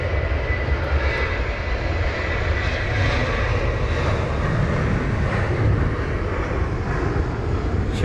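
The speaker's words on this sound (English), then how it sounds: "just passing us now is the KLM 737-800 with the reg Papa Hotel Bravo X-Ray Whiskey or PHBXW off to Amsterdam" A KLM Boeing 737-800 departs Heathrow in wet spray, its jet engines roaring loud and close in a broad, continuous rumble from start to finish.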